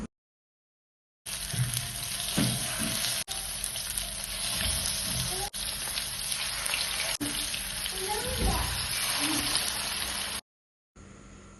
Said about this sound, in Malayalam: അങ്ങനെ ഇതാ മീനൊക്കെ ഒന്ന് എണ്ണയിൽ വെച്ച് കൊടുത്തിട്ടുണ്ട്